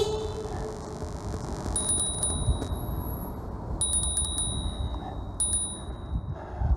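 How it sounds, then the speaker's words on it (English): A bicycle bell built into Tektro brakes rings in several short bursts of bright dings, close and clear over steady road and wind noise during a ride. "these Tektro brakes have the bell built into the"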